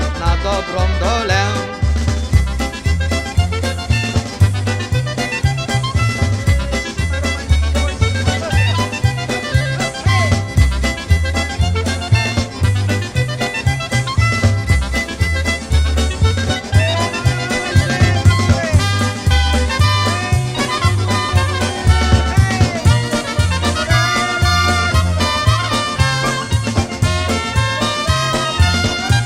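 Lively polka band music with a bouncing oom-pah bass, brass and accordion-like melody, loud and continuous.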